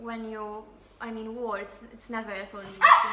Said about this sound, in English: Excuse me, that was my dog.